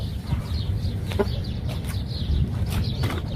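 A rooster gives a few faint, soft clucks over steady low background noise, with no talking.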